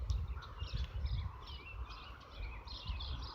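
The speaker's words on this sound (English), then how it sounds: "I love hearing the birds." Birds chirp and sing in a nature preserve, short bright calls scattered through a low outdoor rumble of wind and distance, fairly faint and overlapping, with no one talking.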